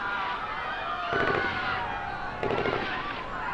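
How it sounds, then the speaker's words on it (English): Bursts of gunfire break out inside a hospital in the H1Z1 video game, two short volleys of rapid cracks about a second apart over a steady background hum, heard at some distance. "we are hearing sounds of what seem to be gunfire inside the hospital"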